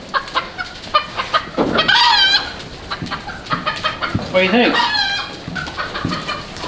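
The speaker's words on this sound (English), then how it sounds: "I think there's a chicken in there sitting on the egg." Chickens cluck close by in a goat barn, with sharp, irregular bursts and drawn-out squawking calls, while a person speaks briefly between them.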